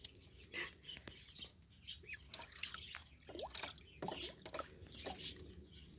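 A pet parrot bathes in a water dish, with soft drips and splashes and bursts of quick wing flapping, faint and close, plus occasional chirps and quiet murmuring from a person nearby.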